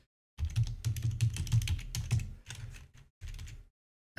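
Typing on a computer keyboard while writing cTrader code, heard as quick, close clicks of keys in a steady burst that stops briefly and then starts again for a short run, with no voices.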